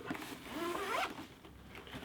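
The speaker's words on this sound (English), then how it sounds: "we have another zip on the bottom, which if we undo this" A zip on the underside of a motorcycle tank bag is pulled open in one quick, close rasping stroke, fairly quiet, with no talk.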